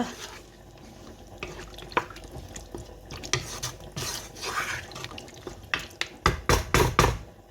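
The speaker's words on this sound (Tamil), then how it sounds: "இந்த தண்ணியை விட்டுட்டு கலக்கி போட்டு" Water poured into a pot of eggplant curry with potatoes and spice powder, then stirred, giving close splashy trickles followed by a run of loud, rhythmic scraping and sloshing strokes toward the end.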